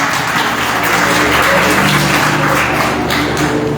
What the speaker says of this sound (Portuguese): Palmas que louvam ao Senhor.